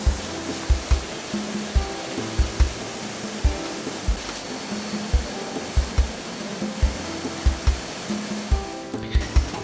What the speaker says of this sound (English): These rolls are now fed into the computer-controlled Gerber cutter.